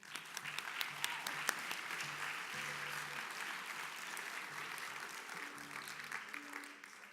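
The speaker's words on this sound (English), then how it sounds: "I want everybody to give them a round of applause for that." Audience applause at a school winter orchestra concert with high school students, steady dense clapping from a crowd lasting throughout, moderately loud with a low instrument tone occasionally sounding underneath.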